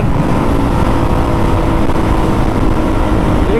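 A 150 cc road motorcycle engine drones steadily and loudly while riding, a continuous close rumble with wind noise and no pauses.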